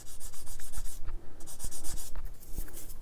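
Light, rapid rubbing strokes of fine sanding on a plastic part for a 1/24 Tamiya Ferrari LaFerrari scale model kit, close and continuous with a short break, no talking.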